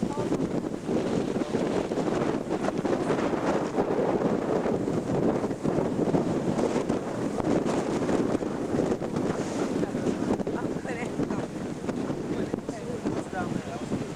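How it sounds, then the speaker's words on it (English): Strong wind blowing by the Sea of Galilee, a continuous rushing roar buffeting the microphone throughout, with no clear talk over it. "Very windy today."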